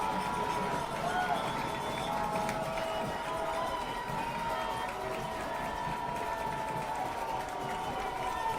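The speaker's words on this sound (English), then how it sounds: "Crowd getting into it." A football crowd at a Springfield vs Henry County game roars in a sustained, distant wash of cheering and noise as the field goal kick is set up, with faint talk under it.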